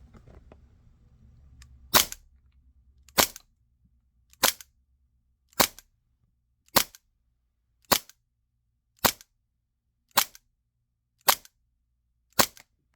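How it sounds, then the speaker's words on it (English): ICS Hi Capa Challenger airsoft pistol converted to HPA, fired through a chronograph: ten sharp, evenly spaced snapping shots about a second apart, close and loud against near silence. "I'll test with the Challenger ICS pistol"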